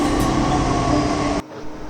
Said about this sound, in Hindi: चलो मेरी मेट्रो ट्रेन भी आ गई है